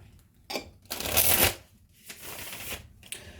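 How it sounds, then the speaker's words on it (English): Cards being riffled and bridged in a few quick bursts, close and crisp, with short pauses between shuffles. "I'm gonna shuffle this one more time"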